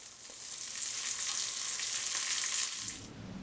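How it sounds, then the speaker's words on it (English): Red currants, raspberries and broccoli sizzle steadily in a hot pan, a continuous close crackling hiss that lasts several seconds before easing off near the end, with no voices. "flip everything over so it cooks on the other side"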